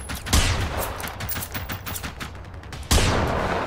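Enemy gunfire in Generation Zero: two sharp, loud shots with rapid rattling fire between them. No one speaks.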